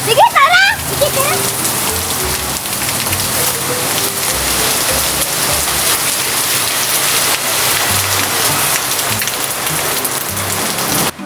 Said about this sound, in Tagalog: Lakas-lakas ng ulan oh.